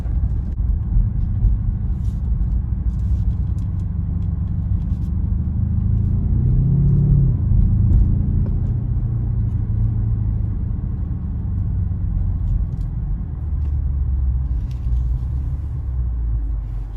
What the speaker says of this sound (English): Now we're in sport settings. I'm going to quickly accelerate to the next dealership entrance.